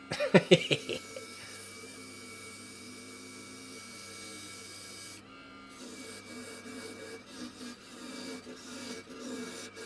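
A wood lathe turns a lidded box while a beginner works it, giving a steady mechanical hum under repeated scraping and rasping of the tool against the wood, with a few sharp catches at the start.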